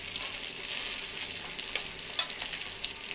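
Onions and garam masala fry in a pan for khichuri made with panta bhat, giving a soft steady sizzle with a faint occasional stir, quiet and without talk.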